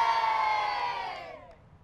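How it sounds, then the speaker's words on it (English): A brief burst of cheering from a crowd of school kids, loud at first and then fading away over under two seconds. "Hey, big cheer!"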